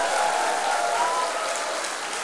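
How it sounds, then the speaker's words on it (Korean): Church congregation applauding together at an evening revival service, a steady dense wash of clapping hands that fills the whole moment without any talk over it. "우리 축복의 박수 부탁합니다."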